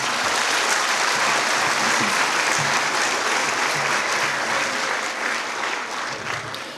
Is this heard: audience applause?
yes